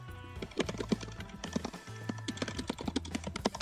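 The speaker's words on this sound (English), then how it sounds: "I can totally hear you typing on the keyboard." Rapid typing on a computer keyboard, close and fairly quiet, with irregular bursts of clicky keystrokes and short pauses between them.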